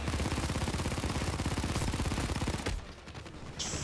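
Rapid automatic gunfire from PayDay 2 hammers away in a dense, evenly paced burst for nearly three seconds, then cuts off abruptly, leaving quieter game ambience with no speech.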